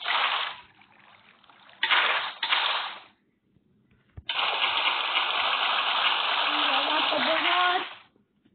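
Water is poured in a house crafting and building video game: two short rushing bursts, a pause, then a long, loud, steady gush that runs for several seconds before stopping.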